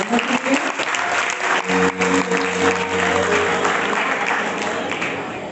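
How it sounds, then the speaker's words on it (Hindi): Loud audience applause at a Hindi devotional stage performance about Sati Manovati, dense steady clapping with a sustained musical tone running underneath partway through and voices mixed in. "एक बार जोरदार तालियां हमारे लिए"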